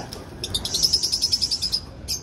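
Birds chirp in a quick run of high, repeated tweets, steady and fairly close, over a faint background hiss, then one more brief call at the end.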